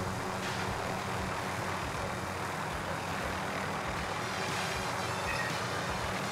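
A helicopter in the video game Call of Duty: Modern Warfare gives a steady, broadband engine and rotor roar that holds at an even, moderate level throughout, with no voices over it.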